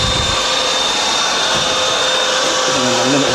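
A vacuum cleaner runs with a steady, loud whining hum and a thin high tone on top, the motor note wavering slightly near the end.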